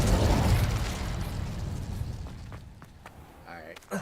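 The Incendio fire spell is cast in the video game Hogwarts Legacy, a loud broadband fiery burst that roars at the start and slowly fades over several seconds, with a few faint clicks and a small pop near the end.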